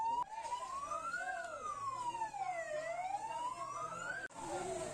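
A fire engine siren wails in a continuous rising and falling sweep, loud and close, at a burning women's prayer hall in Takengon Timur.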